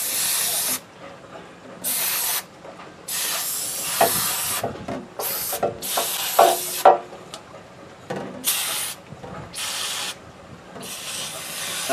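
Foaming cleaner is sprayed onto a car's AC condenser and radiator in repeated bursts of loud hiss, separated by short pauses and light handling noises, close to the listener.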